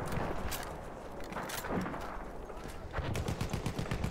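Rapid gunfire in the World War I shooter game Battlefield 1, with sustained bursts of automatic shots and single cracks that come thick and close, clustering densely toward the end.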